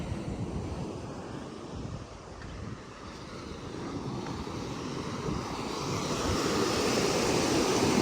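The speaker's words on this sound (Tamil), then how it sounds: "ஆனால் இந்த இடங்கத்தில் கொஞ்சம் அலைகள் ஓரளவாக தான் இருக்குது" Ocean surf rolls in continuously at Kottukal Beach near Pottuvil, a broad steady wash of waves mixed with wind buffeting the microphone, swelling slightly louder toward the end.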